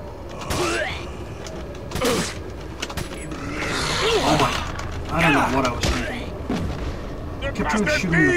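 Gunshots in Resident Evil 4 crack out one by one at irregular intervals, loud and sharp, mixed with clanks and game effects over a busy background.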